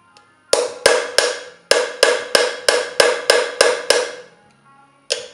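The ball end of a small hammer strikes a metal chasing chisel about a dozen times in a steady rhythm. Each crisp, ringing tap decays briefly, then one last hit follows after a pause.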